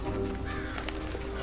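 Several crows caw in short bursts against a steady background hum, with a voice talking over them.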